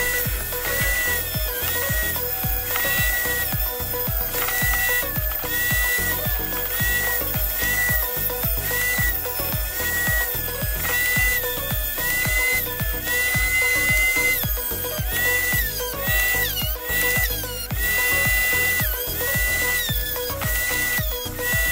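A power drill whines continuously into hard jadeite rock, its pitch wavering as pressure changes, loud and close throughout with no speech.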